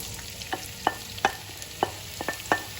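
Whole cumin and onions cooking in a pan for vegetable samosa filling, with scattered spoon stirs and scrapes over a soft, steady sizzle.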